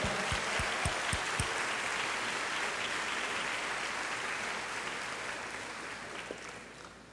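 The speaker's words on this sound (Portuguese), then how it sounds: "Vamos aplaudir ao Senhor." A church congregation applauding during a Sunday service, a few loud, close, separate claps at the start, then a broad, even wash of clapping that fades slightly toward the end.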